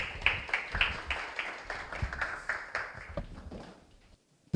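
An audience at a seminar breaks into scattered clapping that thins out over a few seconds before falling quiet.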